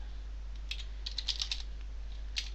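Someone types HTML into Notepad on a computer keyboard in quick, faint clusters of clicking keystrokes over a low steady hum.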